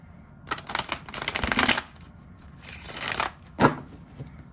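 Cards riffle and snap in two quick shuffling bursts, followed by a short tap as the deck is squared, close and crisp.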